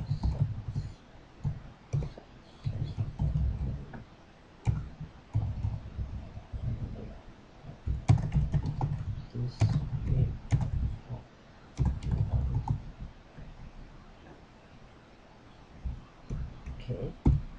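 Computer keyboard keys click in uneven bursts of typing, close by, with short pauses between runs and occasional mouse clicks, and no talking.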